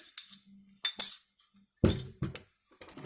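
A spoon scrapes and clinks against a bowl as pie batter with cottage cheese is stirred, giving several separate close, sharp clinks and scrapes with quiet gaps between them.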